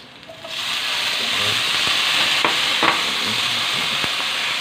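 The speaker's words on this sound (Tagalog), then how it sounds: "igisa na tayo ng kamatis." Tomatoes sautéing in a pan for monggo, a loud close sizzle with stirring scrapes and a few utensil taps against the pan.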